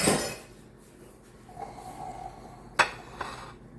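A spatula set down in a kitchen while a cheeseburger pie is being made: two sharp, close clacks about half a second apart over quiet room tone.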